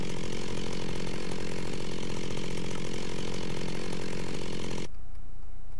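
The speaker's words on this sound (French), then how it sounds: "Et maintenant à la tronçonneuse." Electric chainsaw from the Industrial Craft 2 mod in Minecraft, a steady loud buzzing whir that runs unbroken for about five seconds and then cuts off abruptly into near silence.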